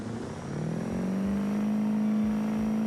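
A stick-shift drag car launches off the line in the BeamNG game, its engine note rising steadily in pitch as it accelerates, loud and close with no talk.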